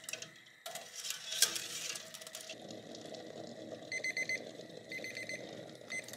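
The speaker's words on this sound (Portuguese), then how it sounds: "Nosso timer apitou, deu tempo" A kitchen timer beeps in short repeated bursts while eggs boil on the stove, after a stretch of faint clattering and bubbling.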